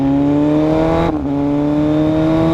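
A car fitted with a thick titanium slip-on exhaust drones steadily at high revs, then dips briefly in a quick upshift before the engine note climbs on, loud and close.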